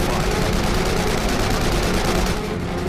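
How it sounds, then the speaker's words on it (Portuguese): Machine guns on World War I fighter aircraft fire incendiary rounds at Fokker planes in a dogfight, a loud continuous dense rattle of rapid shots that barely lets up, without any speech. "Brooks dispara. Projéteis incendiários, um novo tipo de munição projetado para pôr os aviões em chamas, atravessam os Fokker"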